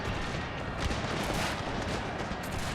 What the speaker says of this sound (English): it's high time to tell the cannons to hold fire